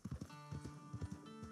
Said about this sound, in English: those are horses